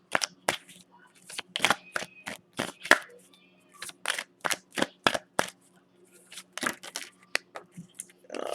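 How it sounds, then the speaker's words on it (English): Tarot cards being shuffled by hand, some dropping out of the deck: a string of sharp, irregular riffling slaps and clicks, close and moderately loud, with short pauses between bursts. "This is the way I'm shuffling."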